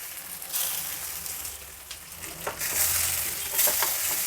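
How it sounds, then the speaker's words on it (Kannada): Steamed rice dumplings sizzle and crackle in a hot oil tempering while being stirred around a pan, the frying hiss swelling louder toward the end. "ಈಗ ರೆಡಿ ಮಾಡ್ಕೊಂಡಿರೋ ಕಡುಬುಗಳನ್ನ ಇದರಲ್ಲಿ ಹೊರಳಿಸೋಣ"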